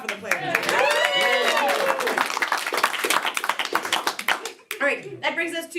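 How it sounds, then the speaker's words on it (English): Audience clapping for the players at a live game show, a voice talking at the start, then a run of brisk, close claps that thin out toward the end. "Clap for the players."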